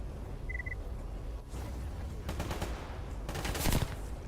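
Bursts of automatic gunfire in the video game Stalker GAMMA, several rapid volleys over a steady rumbling background, loud and close.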